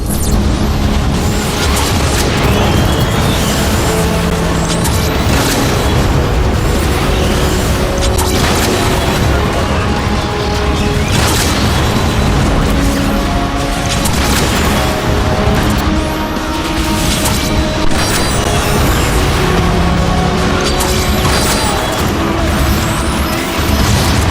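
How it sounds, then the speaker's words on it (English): Rocket explosions in Transformers: Fall of Cybertron boom and crash repeatedly over a dense, loud battle soundscape, with heavy impacts recurring every few seconds and no talking. "These rockets got me pinned down!"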